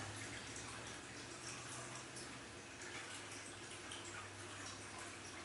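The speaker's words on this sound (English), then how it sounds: "Notice how that sound might have sounds of water." Steady watery wash of sound, like running or lapping water, continuous and even throughout with no voices.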